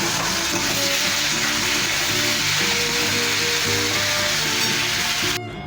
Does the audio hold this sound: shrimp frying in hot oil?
yes